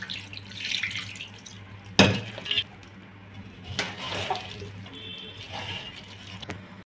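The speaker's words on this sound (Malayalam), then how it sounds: "നന്നായി പുരട്ടി ഇതിലേക്ക് 1 ഗ്ലാസ് വെള്ളം ഒഴിക്കാം." A glass of water is poured into a Kerala-style hamour fish head curry mix, a short splashing burst followed by softer trickling and dripping against a steady low background hum.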